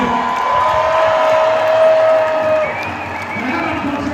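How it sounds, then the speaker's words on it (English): A distant crowd at an outdoor No Kings rally in Alameda cheers and applauds steadily, a broad wash of clapping and voices with a faint whistle tone, fading slightly toward the end. "Just cheer over there for us, would you?"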